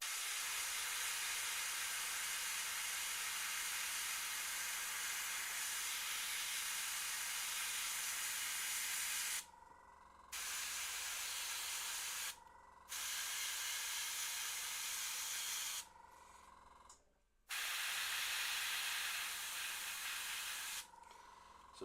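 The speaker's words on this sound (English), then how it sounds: "So just airbrushing the white on" Airbrush spraying white paint onto a Warhammer 40k Emperor's Children miniature, a soft steady airy hiss that cuts out briefly several times as the trigger is released, fairly quiet and close.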